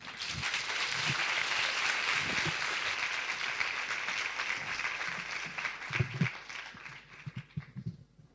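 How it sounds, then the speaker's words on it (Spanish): Applause from a conference audience welcoming a speaker at a Spanish academic event, a sustained wash of many hands clapping that fades out toward the end, with a few isolated claps and thumps as it dies away. "os dejo con él y un fuerte aplauso"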